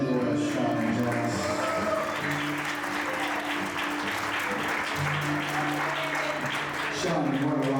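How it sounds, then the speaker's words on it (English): Wedding guests clapping for the couple at the reception, steady applause from a room of people running throughout, with voices and background music audible beneath the clapping. "Round of applause to Midwest, Sean and Janis."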